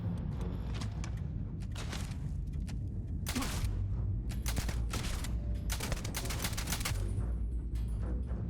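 Dense gunfire from the video game Starfield, with rapid bursts and repeated shots layered over a constant loud rumbling backdrop and no pauses.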